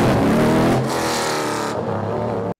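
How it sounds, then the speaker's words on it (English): A 2023 Le Mans hypercar engine, bump started after pulling away on electric power, roars loudly and steadily, revving hard with a throaty tone before the sound shifts and then cuts off abruptly. "they take off in full electric and bump start the engine"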